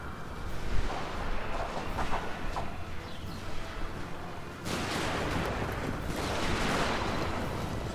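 Massed musket gunfire crackles through a Shogun 2 battle, a dense continuous rattle of scattered shots over a steady rumbling battlefield din, with no talking.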